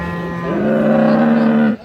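A dairy cow at a cattle market lets out one loud, sustained moo lasting over a second, close to the listener, with faint background noise.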